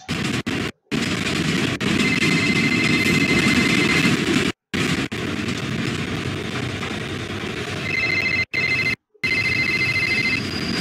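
A phone rings inside a horror video game, its repeating electronic tone looping over a dense, noisy ambient backdrop, broken by a few abrupt silent gaps.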